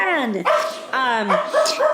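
A dog barks and yelps excitedly at a mail carrier arriving at the house, several sharp yips close by mixed with people talking over it.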